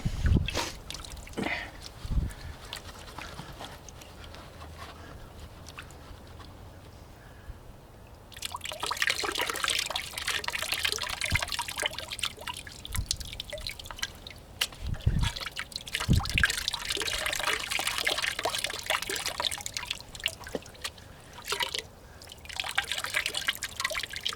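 Water sloshing and swirling in a gold pan as crushed desert rock from Arizona is panned, with soft trickles and rising splashy washes after the first few seconds, close and steady with brief louder surges.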